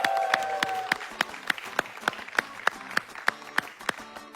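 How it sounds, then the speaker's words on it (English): Claps at a Realme P4 and P4 Pro smartphone launch event come as sharp, sparse beats in a steady rhythmic pattern rather than a dense ovation. A faint tone sounds at the start. "A round of applause for the Realme P4 and the Realme P4 Pro."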